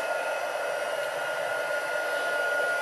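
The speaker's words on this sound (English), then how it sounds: "And I will heat up my heat tool." A craft heat tool blows hot air in a steady, continuous whoosh at close range, even and unbroken throughout with no talking.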